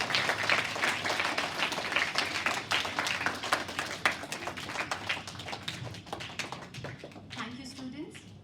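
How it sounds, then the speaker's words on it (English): A school morning-assembly audience claps for students on stage, giving fairly faint, steady applause that continues throughout and fades near the end, with voices and talk mixed in. "Please give them a huge round of applause,"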